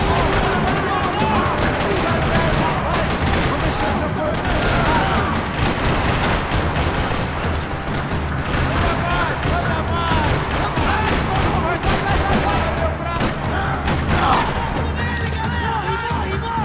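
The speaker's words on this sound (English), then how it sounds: "Another parking lot rattling with gunfire." Dense, continuous gunfire crackles throughout a parking lot in the video game Max Payne 3, rapid bursts overlapping with booms and a busy, chaotic background, with voices occasionally audible underneath.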